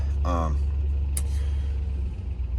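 A truck engine idles while warming up on a hunting trip, a low steady rumble that runs throughout, with a brief voiced sound near the start.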